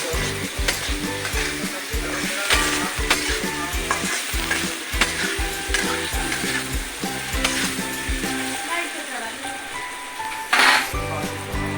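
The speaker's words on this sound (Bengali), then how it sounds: "আলু কুমড়ো ভাজা হয়ে গেছে প্রায়।" Potato and pumpkin pieces fry in a pan as greens are cooked. The oil keeps up a constant sizzle while a spatula scrapes and stirs in a quick, regular rhythm, close and fairly loud, with a metallic clatter near the end.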